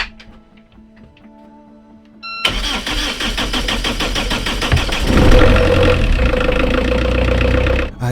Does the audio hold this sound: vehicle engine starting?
yes